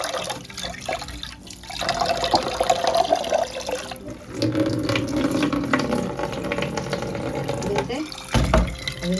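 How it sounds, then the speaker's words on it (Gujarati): Toor dal lentils being rinsed by hand in water, with sloshing, swishing and splashing that keeps going throughout and swells in bursts, close and fairly loud. "આવી રીતે 3 થી 4 પાણીથી ધોઈ લેવાની દાળને"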